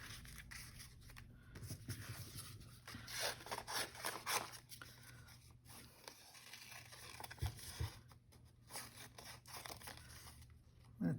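Scissors snip through clear sticker paper in a quiet room, a string of soft crisp cuts and rustles of the sheet being turned, close and faint with no talking.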